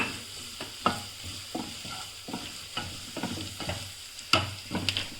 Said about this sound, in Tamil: 2 பல்லு பூண்டும் கொஞ்சம் இஞ்சியும் போட்டு நான் சேர்த்து வதக்கிறேன் பாருங்கள்